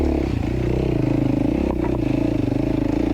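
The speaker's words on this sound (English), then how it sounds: "You can hear the bike is working." An enduro dirt bike engine lugging low in first gear during a hard enduro race, a deep, pulsing, labored throb close by with brief clatter and scraping over a short burst of revs.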